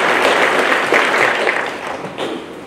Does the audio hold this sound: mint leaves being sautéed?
no